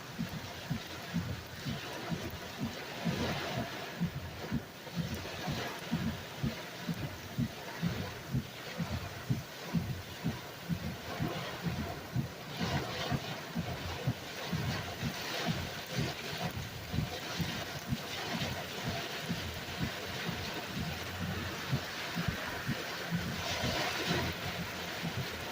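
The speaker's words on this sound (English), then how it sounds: "Torrential downpour." Torrential downpour driven by strong straight-line winds of about 70 mph in Branson West, a dense, steady roar of rain with low gusty buffeting running continuously and loudly throughout.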